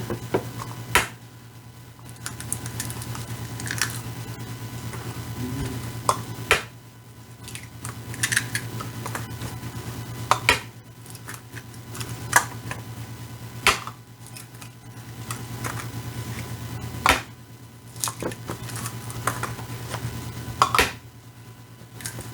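Six eggs cracked one after another into a bowl for white chocolate blondie batter, heard as a series of sharp taps and clicks spread out over a quiet kitchen with a low steady hum underneath.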